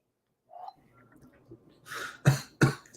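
A few harsh coughs close to the microphone, building to two or three sharp bursts at the end after a brief throat sound.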